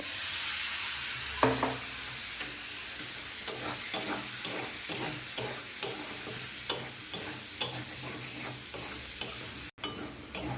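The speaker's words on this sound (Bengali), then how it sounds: "দিয়ে দেবো আদা রসুনের পেস্ট।" Ginger garlic paste frying in a pan for ghugni, a close steady sizzle broken by a regular series of scraping stirs, roughly one every half second, with a brief dropout near the end.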